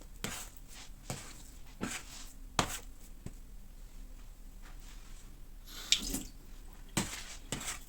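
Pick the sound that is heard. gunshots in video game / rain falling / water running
water running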